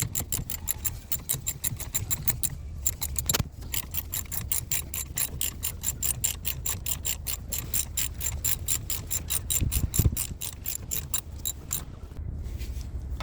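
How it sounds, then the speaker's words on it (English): Ratchet wrench clicking in a rapid, steady run of sharp metallic ticks while rear brake pads are replaced on a Mini Cooper, close and loud throughout with a brief heavier knock near the end. "That ratchet is not working out, so change that ratchet and get a different one that's work."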